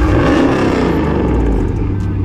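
A loud, close V8 Hemi engine revs in a Ram or Charger R/T, giving a continuous deep, throaty roar that holds steady for a couple of seconds.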